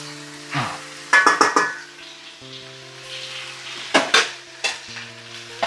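Ivy gourd fry sizzles steadily in a pan while a spoon stirs it, with several bright scraping clinks against the metal and a continuous frying hiss beneath.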